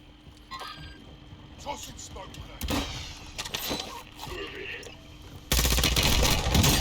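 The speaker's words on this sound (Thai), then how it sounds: "โอ้แต่ปืนมันรัวจริงนะ อันนี้ยอมรับเลยเรื่องความรัวนี่คือแบบ กราดกราด" A glowing automatic gun in Warzone 2.0 fires a loud, dense, rapid burst after scattered quieter shots and game noise, with someone talking excitedly over the action.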